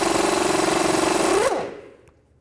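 An 18mm socket on a power driver spins loudly and steadily, removing the nut atop the tie rod on a 2003-07 Cadillac CTS, then winds down and trails off into near silence.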